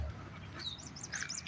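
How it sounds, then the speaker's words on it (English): Birds sing outdoors on a walk by a lake, with a few short chirps and rising tweets, faint and somewhat distant over soft background noise. "The birds are singing."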